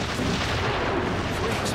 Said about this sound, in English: I'm mad the explosion is so close to me, it was crazy.